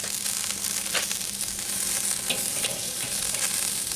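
Shrimp and charred onion sizzle and crackle steadily in a Luvafoodie grill basket over a grill as they are shaken and stirred, with a close, dense frying hiss and scattered pops throughout.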